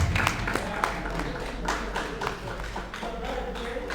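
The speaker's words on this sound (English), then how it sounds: "you can clap for him as he comes" An audience at an entrepreneurship exhibition gives a short round of light, scattered clapping as a person walks up, moderately close and fading toward the end.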